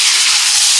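Curry leaves hit hot oil for tempering and give off a brief, loud, hissing sizzle that stays close and constant.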